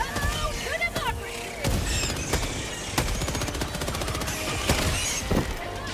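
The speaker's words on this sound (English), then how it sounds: "Throwing grenade!" Gunfire and a grenade blast in Helldivers 2, dense machine-gun bursts with sharp explosive cracks and debris, loud and close, mixed with game voices.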